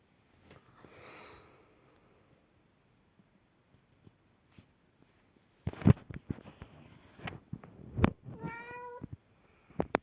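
A cat meows in the video game Dark Riddle, a clear harmonic meow near the end after a few sniffs and soft game noises, close and fairly loud with no talk.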